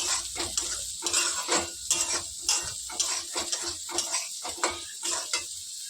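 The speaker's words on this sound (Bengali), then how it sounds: "সুজিটা আরেকটু লাল লাল করবো, প্রায় ভাজা হয়ে গেছে" Semolina roasts in a pan for upma while a spatula stirs it in repeated scraping strokes, a close, rhythmic series of dry scrapes over a faint sizzle.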